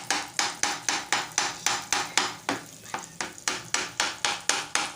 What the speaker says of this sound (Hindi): इस तरह से मिक्स करना है वीवर्स कि ये सारा मगज़ जो है टमाटरों के साथ अच्छी तरह से मिक्स हो जाए